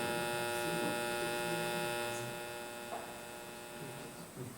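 A steady 50 Hz electrical mains hum with a buzzing stack of harmonics, constant and unbroken, fairly quiet, with no speech over it.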